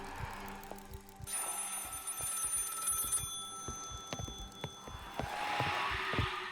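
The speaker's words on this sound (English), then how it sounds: "the phone booth starts to ring again" Old phone booth bell ringing in the horror game Maid of Sker, repeated metallic trills over quiet footsteps and ambient hum, fairly close and clear.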